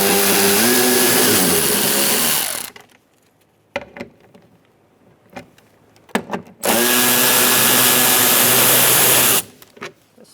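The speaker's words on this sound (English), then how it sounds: "now we're going to take out these 3 bolts. I'm going to use a 10mm socket." Power ratchet or drill driving out 10mm bolts on a 2004-2009 Mazda 3 front door window regulator: two loud, sustained whirring bursts separated by a quieter stretch of scattered clicks and metallic taps, close up.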